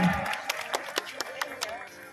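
At a Bun Bang Fai rocket festival, a crowd gives scattered, moderate applause for the traditional dancers, a loose patter of claps heard from a middle distance under a public-address voice.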